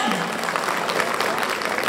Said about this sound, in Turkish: Abi bu alkış bugün benim kulağıma çok az geliyor ya